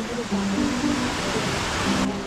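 Falling water at Alegria Falls in Cebu pours into the plunge pool as a steady, close, full-band roar, with faint voices murmuring underneath.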